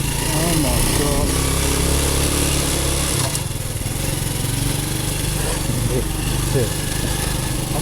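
A serviced Honda Wave motorcycle engine runs steadily throughout, a loud continuous low hum with a brief dip in tone midway, probably after repair work in rural Thailand.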